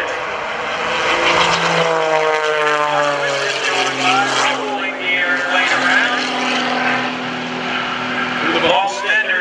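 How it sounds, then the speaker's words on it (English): A jet-powered school bus fitted with a J79 engine from an F-4 Phantom at an airshow: a loud, sustained roaring whine with shifting pitch sweeps as it passes, ending abruptly, with a commentator talking over it. "You can definitely hear that engine. It's a J79 out of an F4 Phantom."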